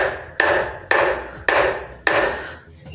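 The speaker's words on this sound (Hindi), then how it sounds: "इस पाइप के ऊपर ठोकिए हथौड़ी" A hammer strikes a pipe to drive a pump impeller onto a motor shaft, four steady metallic knocks with brief ringing tails, close up and without speech.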